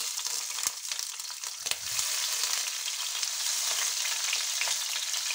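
Sliced bell pepper sautés in hot oil in a pan, giving a loud, steady, bright sizzle with a few crackling pops near the start and no voices.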